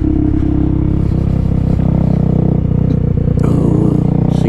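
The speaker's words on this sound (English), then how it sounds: "Like a bit of downshifting, pop and bang, or deceleration" KTM Duke 390 fitted with a booster plug, heard close and loud as the engine drones on deceleration, with a few sharp exhaust pops and crackles breaking through while downshifting.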